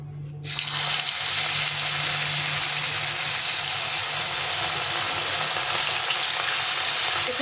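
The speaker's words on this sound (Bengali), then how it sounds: "তেলটা গরম হয়ে গেছে এখন মাছগুলো ভেজে নেবো" Fish pieces for a Bengali bata fish curry drop into hot oil and set off a loud, steady sizzle that starts abruptly within the first half second and holds dense and close for the rest of the clip, with no talking.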